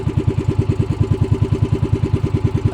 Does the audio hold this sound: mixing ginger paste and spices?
no